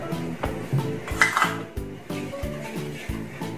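Cake batter is mixed in a bowl with quick rhythmic strokes, a utensil knocking and scraping against the sides in a steady close pattern.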